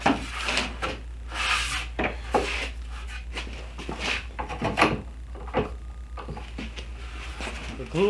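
Glued-up wood boards being hand-sanded, with repeated close rasping strokes and scuffs in an uneven rhythm over a low steady hum, occasional knocks of wood between passes.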